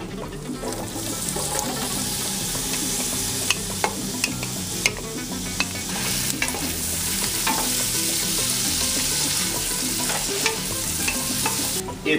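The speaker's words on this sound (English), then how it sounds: "I'm going to saute my onions and bacon for about 10 minutes until everything is really brown and delicious." Onions and bacon sizzle and fry in butter in a pan, a dense, steady crackle with occasional sharp pops and stirring scrapes, close and continuous with no talking.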